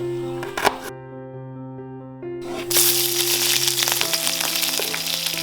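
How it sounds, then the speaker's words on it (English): Onion, bhut jolokia chilies and bamboo shoot hitting hot oil: a sudden loud sizzle bursts in and keeps crackling and hissing steadily at close range, with a hum running underneath and no talking. "Heat some oil, drop all of them in, add some salt, saute for a while"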